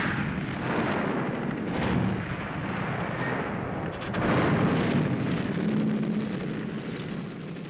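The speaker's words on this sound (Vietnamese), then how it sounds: "súng Đại Bác dội bão lửa lên đầu thù" Artillery cannon fire from a battlefield in the war against the French rumbles on as a dense, continuous roar, with heavy booms rising and falling at a fairly distant, muffled level throughout.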